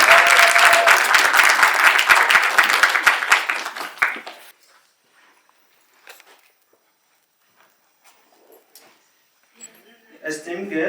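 Loud audience applause welcomes a speaker to the stage at a Yale Hospitality screening event, a dense clapping crowd lasting about four seconds before dropping to near silence with only faint scattered rustles.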